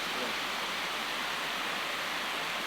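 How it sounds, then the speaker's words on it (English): Mountain creek tumbling down a small cascade on a tributary near a spring, a steady broadband rush of water close by and fairly faint, without talk. "This is the creek."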